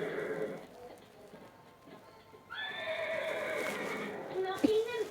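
A horse in an animated show neighs in a long, shaky whinny, then gives a second whinny with a snort as hooves clip-clop close by, with voices heard in between.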